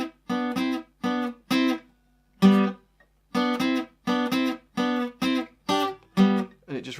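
Guitar slowly plays the riff from a song, a series of short, crisp plucked notes and chord stabs in a steady repeating pattern with brief gaps, clear and alone.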